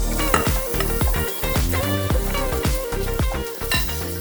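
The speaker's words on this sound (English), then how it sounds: "while those meatballs are cooking on up" Teriyaki meatballs frying in a pan over medium heat, a steady loud sizzle broken by repeated scraping and clinking of a utensil stirring against the pan.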